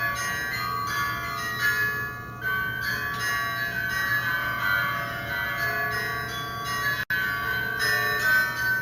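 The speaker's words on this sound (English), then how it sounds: "campanile bells ringing." Bells ring steadily with a bright, resonant tone over a constant low hum, sustained without pause and heard from a moderate distance.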